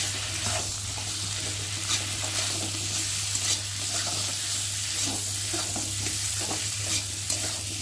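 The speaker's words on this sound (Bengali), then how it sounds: "দিয়ে মশলাটা ভালো করে কষিয়ে নেব।" A spice paste of ground ginger, cumin and garlic with chopped tomato stir-fried in a pan, an even hiss of frying beneath scraping spatula strokes, close and steady with a low hum underneath, no voices.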